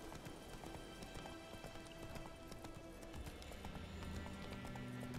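Roach the horse's hooves clip-clopping in The Witcher 3, a quiet rhythmic trot of repeated hoof clicks beneath soft game music at sunset.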